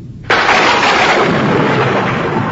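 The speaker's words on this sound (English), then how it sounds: "there was a great clap of thunder" A sudden loud crack of thunder bursts in after a quiet moment, then rolls on as a dense, sustained rumble that slowly fades.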